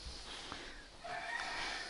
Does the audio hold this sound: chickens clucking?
yes